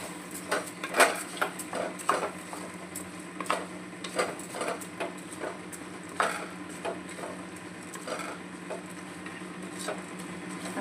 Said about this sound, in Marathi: याला चांगलं मिक्स करूया